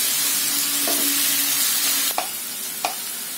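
Tomatoes fry in a pan with salt under a steady, loud sizzle, and a spoon scrapes and clinks twice against the pan near the end, with no talking.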